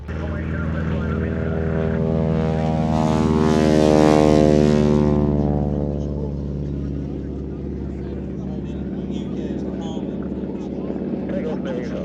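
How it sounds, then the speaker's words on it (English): A WWII training aircraft with a direct-drive, short propeller passes overhead, its blade tips going supersonic in a harsh, rasping buzz. The buzz swells loudest at the midpoint, then fades to a droning hum as the plane moves away. "it's the tips of the propeller blades going supersonic, because it's a direct drive propeller, quite a short throw propeller"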